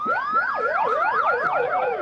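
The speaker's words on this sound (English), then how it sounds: "It's the noise you hear in all the old science fiction movies." A theremin plays swooping, wavering tones in the classic old science-fiction style, with continuous glides rising and falling at a steady moderate level and no voices.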